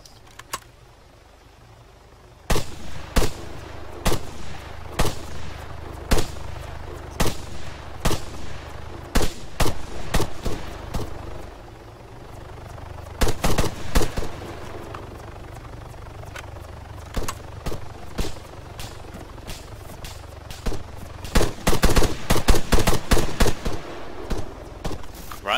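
Repeated gunshots ring out in single cracks and rapid bursts, loud and sharp, with an engine idling underneath and dense clusters of shots toward the end.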